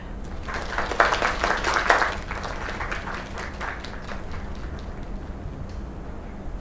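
A crowd claps in a short burst of applause that swells, then thins out into scattered claps over a low background hum.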